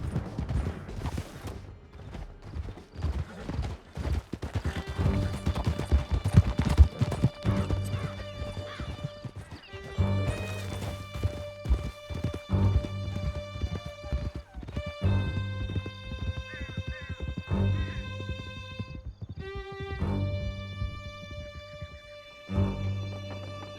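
Horses gallop with steady clip-clop hoofbeats and occasional whinnies during a canyon escape in the video game Red Dead Redemption 2, layered under a continuous tonal music score that swells and shifts throughout.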